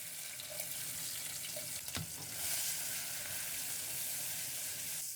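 Cumin seeds and onion fry gently in oil, giving a soft, steady, watery sizzle with a single sharp clink partway through. The sound is faint and close, with no voices.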